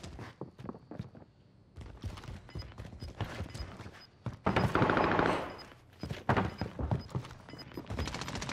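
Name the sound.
STEN submachine gun firing in Call of Duty video game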